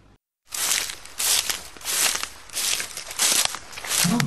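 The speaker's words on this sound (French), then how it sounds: "Lièvre et Souris entendent des bruits de pas." Footstep sound effect in a read-aloud picture-book story, a run of crunchy, rustling steps with a crinkly texture, fairly loud and close, repeating in uneven pulses after a short silence, with no talking over it.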